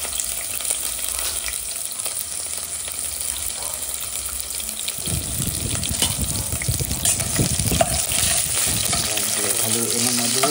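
Food frying with green chili in a pan, a constant sizzling hiss with stirring scrapes and clatter growing busier partway through, close and fairly loud.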